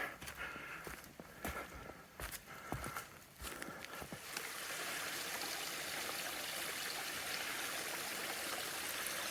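A forest stream at a trail water crossing in Willoughby State Forest, Vermont, rushes as a steady broadband wash that swells loud and constant after a few seconds of rustling footsteps on the trail.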